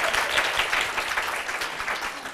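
Steady crowd applause at a COSCUP 2011 conference talk, moderately quiet, even clapping that continues without pause.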